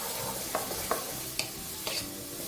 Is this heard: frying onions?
yes